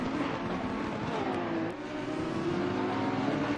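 Porsche GT3 race car engine at Suzuka in a racing video game, a loud continuous high-revving drone with a brief dip in pitch midway, steady and close.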